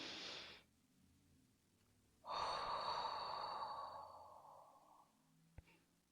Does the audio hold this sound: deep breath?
yes